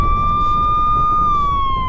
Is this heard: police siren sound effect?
yes